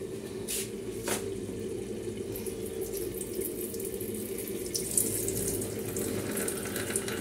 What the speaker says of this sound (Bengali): এদিকে চালটাকে ধুচ্ছি